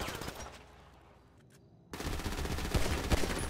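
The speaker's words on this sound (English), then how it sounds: "Oh, I'm about to shoot my friend, sorry." Burst of automatic gunfire in GTA V, a quiet lull and then a loud, dense, sustained volley of rapid shots that continues to the end.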